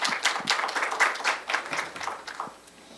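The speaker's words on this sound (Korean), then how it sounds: "박수로 환영해 주시기 바랍니다." Applause from a mediation conference audience, a burst of many hands clapping that gradually thins out and fades toward the end.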